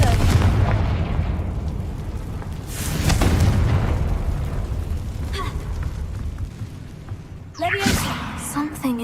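Confringo blasting spell exploding in the Hogwarts Legacy video game, a few deep booms and bursts with rumbling tails, the last sharp blast near the end, heard over the game's background ambience.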